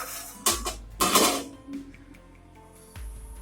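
A metal lid comes off a cooking pot of biryani in a close kitchen scene, with two quick scraping clatters followed by a faint hiss. A softer clank comes near the end.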